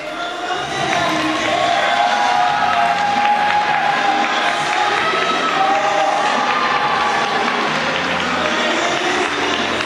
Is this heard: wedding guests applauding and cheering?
yes